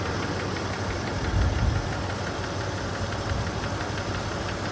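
The engine of a 1997 Toyota 4Runner with 400,000 miles and a lift kit runs steadily with a light tick, a dense close mechanical drone with a slight surge partway through and no voices.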